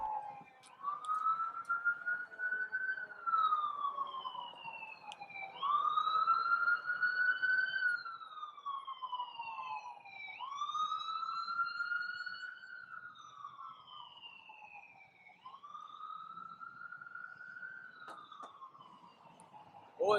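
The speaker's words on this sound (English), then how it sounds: "That siren is probably not a good sign." A siren wails in rising and falling sweeps, repeating steadily over about twenty seconds; it sounds distant and fairly faint, with no talk over it, heard during a croquet match.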